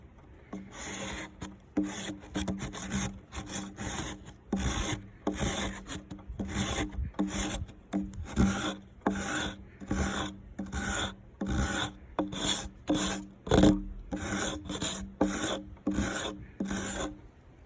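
A jigsaw-blade rasp scrapes back and forth over cedar wood in quick, regular strokes, roughening it with a loud, gritty rhythmic scratching that continues steadily throughout.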